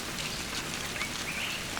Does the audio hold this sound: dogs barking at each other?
no